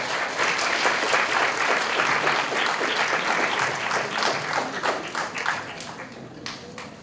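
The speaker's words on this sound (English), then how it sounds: "Let's give him a big round of applause." Sustained audience applause fills a hall at a spelling bee championship for a primary-category student, dense steady clapping from a crowd that slowly thins toward the end, with no talking.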